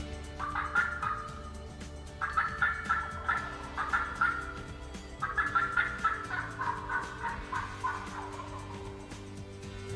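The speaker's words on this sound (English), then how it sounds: "the sound of those turkeys started to grow fainter" Several wild turkeys gobble in rapid warbling bursts, repeated in overlapping bouts at moderate distance on an Arkansas ridge over a steady low outdoor hum.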